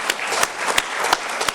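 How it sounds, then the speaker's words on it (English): A burst of applause from a crowd at a township trustees meeting, dense steady clapping close by with a few sharper claps standing out. "So can we give those folks a round of applause?"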